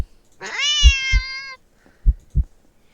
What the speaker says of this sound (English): The cat meows at you again, but it sounds much deeper than earlier.